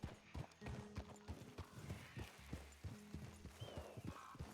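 A horse's hooves clop in a steady walking rhythm through RedM, the roleplay game, moderately close and alone, with a faint snort near the end.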